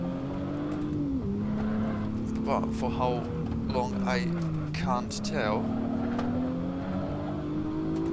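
A BMW M1 Stage 3 racing car engine on the wintery Nordschleife drones and revs, its pitch rising and falling with gear changes, under steady close commentary from a man.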